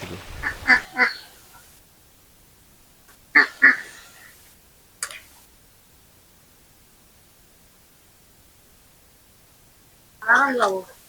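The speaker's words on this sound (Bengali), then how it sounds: "খেলা করছে দেখুন হাঁসের আর" Ducks quacking in short separate bursts in a Sundarbans village, a couple of calls near the start, a pair around the middle and a louder burst at the end, with quiet gaps between.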